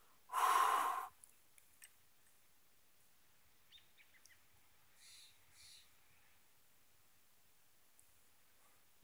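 A forceful exhale during a breathing exercise, one loud, close whoosh of air lasting about a second, followed by near silence with a few faint soft sounds.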